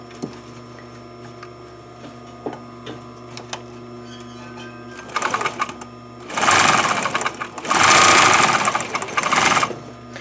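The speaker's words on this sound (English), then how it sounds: "I'm just going to do a zigzag stitch to keep this edge from fraying" A sewing machine running a zigzag stitch along a fabric edge to stop fraying, with quiet ticks and clicks first, then loud, fast, rhythmic stitching bursts in two or three runs close up.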